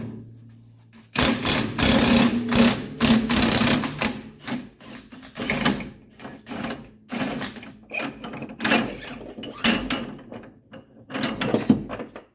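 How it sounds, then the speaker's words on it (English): A spring compressor is unwound from a car's front coil spring during suspension work on a 1985 wagon, giving a rapid series of loud ratcheting clicks and mechanical whirring bursts, close up, with brief pauses between runs. "we're going to remove our spring compressor and uncompress our spring"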